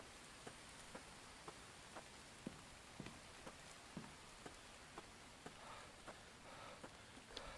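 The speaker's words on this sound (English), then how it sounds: "The rain." Rain falling in the survival video game The Infected: a soft, steady hiss of rainfall with faint scattered drip ticks throughout, heard alone and at low level.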